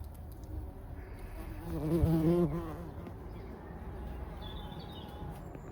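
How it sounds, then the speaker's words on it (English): Bees humming around a flowering garden bush, a soft steady buzz with one insect passing briefly closer and louder, outdoors and fairly faint, no talking. "This bush is just humming with bees."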